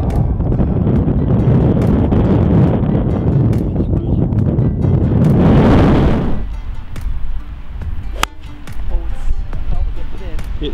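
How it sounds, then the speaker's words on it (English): Strong wind on a golf course during Storm Eunice buffets the microphone with loud, heavy rumbling gusts that ease after about six seconds, while people talk throughout. "you've got a strong right to left wind"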